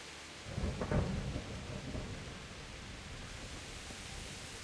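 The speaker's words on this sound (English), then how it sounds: "Pouring rain, eh?" A low rumble of thunder rolls in over a steady hiss of pouring rain in the video game Kingdom Come: Deliverance, then fades back into the constant downpour.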